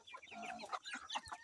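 Chickens cluck and chatter nearby on an open-range farm where the birds roam freely through an orchard, with several overlapping calls and no talking.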